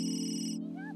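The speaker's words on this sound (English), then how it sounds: "Whose phone is ringing?" A phone rings in The Sims 3 video game, a bright sustained electronic ringtone that cuts off partway, followed by a brief rising chirp.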